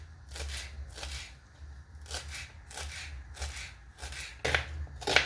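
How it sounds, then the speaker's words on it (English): A knife chops purple onions on a board in sharp, evenly spaced strokes, about six crisp hits over a few seconds, close and distinct against a quiet kitchen background. "Now I'm chopping up also my purple onions."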